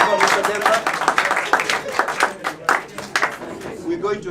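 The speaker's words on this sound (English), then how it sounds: "Round of applause for Mr." Audience applause at a debate on whether Democrats represent African American interests, loud close hand claps in uneven bursts that thin out and swell again, with voices talking over them.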